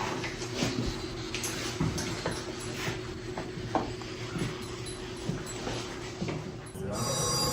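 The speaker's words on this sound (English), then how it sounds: "That was an actual old phone." An old telephone bell rings in the Cherokee Strip Museum in Alva, Oklahoma, with repeated short metallic ringing bursts at moderate distance amid room noise, followed by a brighter sustained ring at the end.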